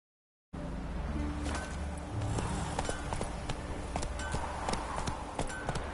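Roach, a horse in the video game Witcher 3, trots with steady rhythmic hoof clip-clops over a low ambient game bed, fairly close and continuous, with no voices.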